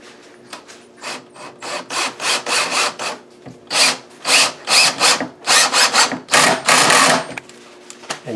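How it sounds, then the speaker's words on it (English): A screw being driven with a hand screwdriver while installing a base kitchen cabinet, giving a run of repeated scraping, grinding turns that start soft and grow louder and denser, close by with no talking. "now we're going to drive that screw in there"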